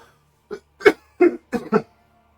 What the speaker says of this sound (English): Sorry, I'm going to cough real quick.